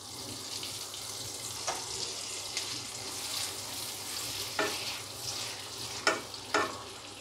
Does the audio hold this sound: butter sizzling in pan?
yes